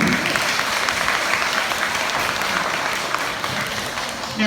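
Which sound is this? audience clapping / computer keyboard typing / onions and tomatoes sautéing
audience clapping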